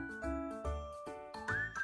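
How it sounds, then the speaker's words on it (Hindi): A phone rings at home with a melodic ringtone, a repeating bright chime pattern in short bursts, fairly close and with no talking. "फोन पे फोन आ रही"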